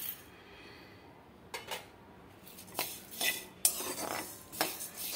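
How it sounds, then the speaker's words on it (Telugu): Toor dal being stirred and dry-roasted in a pan with coriander seeds for rasam powder, giving quiet background hiss broken by several sharp metal spoon scrapes and clinks against the pan, growing busier toward the end. "ఇప్పుడు 1/2 కప్పు కందిపప్పు ఇవి వేసుకుందాం."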